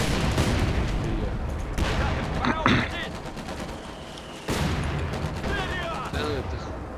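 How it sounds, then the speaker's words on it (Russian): Machine gun fire in the strategy game Company of Heroes 2: loud, dense bursts of rapid gunshots with booming battlefield explosions underneath, continuing almost without pause. "Пулемет в первую очередь, пулемет в приоритете, пулемет."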